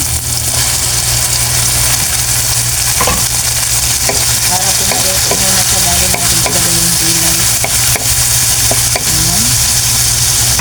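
Chicken liver and tomato frying in a pan for a bitter melon stir-fry, a loud, steady, close sizzle running throughout with faint tonal background hum and no talk.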